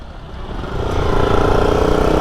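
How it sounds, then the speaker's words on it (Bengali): A 185 cc motorcycle engine running close by in a bike market, a steady loud rumble that rises slightly in intensity, no talk. "হান্ড্রেড একশো পঁচাশি সিসির বাইক"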